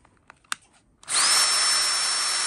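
Bosch HDS181A cordless hammer drill from the USA spinning up at speed setting 1: after a few faint handling clicks, a loud, steady high-pitched whir starts abruptly and holds unchanged to the end, with no talking.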